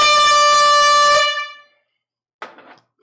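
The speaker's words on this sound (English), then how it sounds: "The first air horn happens when we sell out of a crate or we sell a record for 500 more." An air horn blasts once, loud and sustained for over a second, at a live vinyl record sale to mark a sold-out crate of pre-owned records, then trails off; a brief faint sound follows after a pause.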